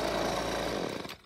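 A Husqvarna gas-powered leaf vacuum engine runs in a yard, its loud, steady drone close by. The engine note then drops away in a brief fade at the very end.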